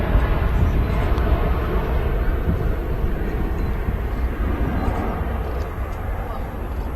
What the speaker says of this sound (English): Great sound there from the Jet 275 LSAE